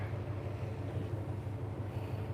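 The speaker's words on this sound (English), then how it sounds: "Can you hear the water?" Water rushes alongside the cruise ship Azamara Quest during sail away, a continuous low wash with wind buffeting the microphone and no voices.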